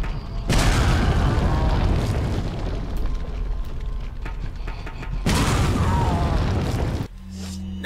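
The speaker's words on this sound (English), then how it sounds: "We also have some normal hand grenades" A hand grenade goes off in Resident Evil 4, a loud near blast with a long rumbling tail, then a second heavy explosion a few seconds later before the noise cuts out.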